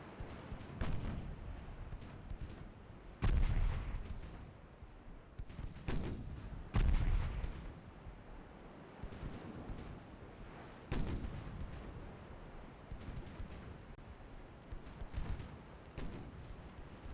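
Warship main guns and secondary batteries fire in the naval game Ultimate Admiral: Dreadnoughts, heavy booms repeating every few seconds among lighter irregular reports over a continuous low rumble, with no talking.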